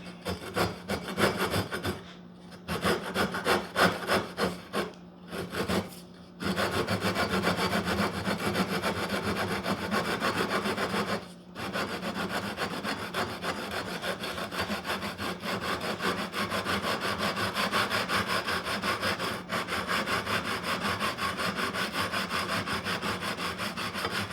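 Abrasive rubbing along guitar frets to flatten them, a steady scraping rasp in long continuous strokes with a few brief pauses, close and fairly loud, no talking.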